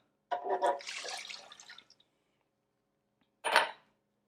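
A short run of limeade pouring and splashing into a measuring cup, then a pause and a brief second splash, close by with no talking.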